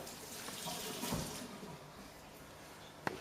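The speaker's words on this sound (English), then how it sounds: "And then just giving it a quick rinse." Prawns being rinsed under a running kitchen tap, a steady close wash of water with a brief surge midway and a sharp knock near the end.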